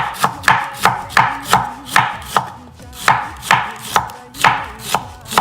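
A knife slicing food thinly for Khmer raw beef salad, striking a cutting board in a steady, brisk rhythm of about twelve crisp chops, close and clear with no talking.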